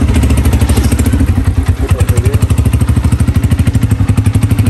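A motorcycle is wheeled out and started on Eid day, its engine chugging in a steady, rapid, loud rhythm close by, with a few clattering knocks early on and no talk over it.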